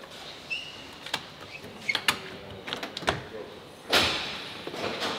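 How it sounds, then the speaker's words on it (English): The upward-opening doors of a Vector sports car swing up, with a series of mechanical clicks, latch taps and a louder whoosh partway through, heard close amid a quiet room. "The doors go up, baby."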